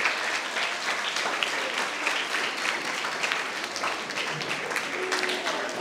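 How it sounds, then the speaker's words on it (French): Students applaud school election candidates at a ceremony, a sustained, fairly loud crowd of clapping hands running throughout with a few faint voices mixed in. "Donc sous vos applaudissements, j'aimerais vraiment que vous les encouragiez."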